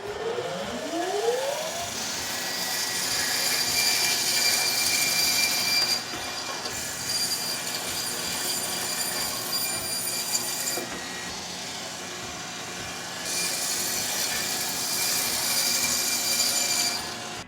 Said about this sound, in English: We're going to be using this really new high-tech bandsaw that has high-tech safety features.